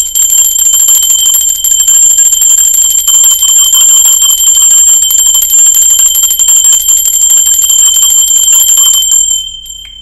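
A bright metallic bell rings steadily for about nine seconds, loud and close. Its sustained, shimmering tone holds without a break, then stops abruptly.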